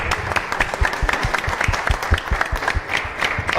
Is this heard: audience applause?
yes